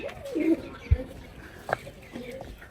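Pigeons coo on a Punjabi rooftop as grain is scattered to lure and catch them. A few short, throaty coos sound close by, with a faint voice in the background.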